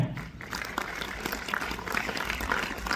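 An audience applauding after a poetry recitation, a dense continuous wash of clapping from a crowd, fairly distant and steady for the whole stretch.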